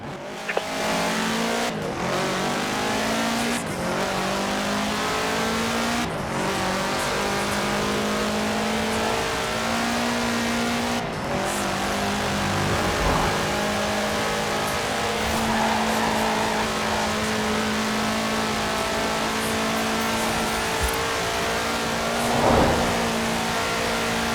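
A Volkswagen Type 2 van engine in Forza Horizon 4 drones steadily and loudly at sustained high revs for the whole stretch, with brief shifts and faint tire noise, no voices.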